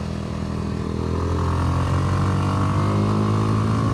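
A 2025 Kawasaki W230 single-cylinder motorcycle rides on a road, its engine droning loud and steady throughout with a continuous low thrum and rising pitch.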